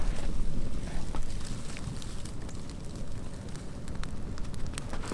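A brush-fed campfire burns in snowy woods, giving a dense, steady crackle and hiss with scattered sharp pops under light wind noise.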